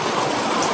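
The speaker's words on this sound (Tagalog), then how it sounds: "Nauulan na yung cellphone ko." Rain falling steadily on plants in a small terrace garden, a dense even patter with a close, fairly loud wash of drops and no voices.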